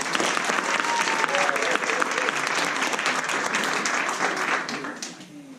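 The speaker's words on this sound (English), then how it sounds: "give these guys a big round of applause" An audience at a level one improv class show gives the performers a big round of applause, loud dense clapping and a few cheers that fade near the end.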